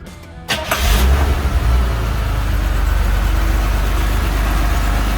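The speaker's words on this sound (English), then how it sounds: "let's fire it up and listen to it run." A 1982 Chevrolet Citation X11 with a tuned exhaust cranks briefly, fires, and settles into a loud, steady, throaty idle heard up close.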